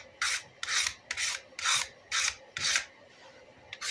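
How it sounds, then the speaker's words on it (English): A blade scrapes old shellac from the wooden handle of a vintage Craftsman fender body hammer in six or seven rhythmic, rasping strokes, close and crisp with brief pauses between each pass. "take your blade, scrape"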